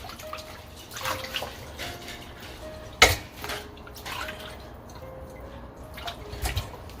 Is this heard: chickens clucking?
no